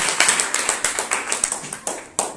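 An audience at a talk claps in a quick, uneven burst of sharp hand claps over a couple of seconds, moderately loud and fairly near.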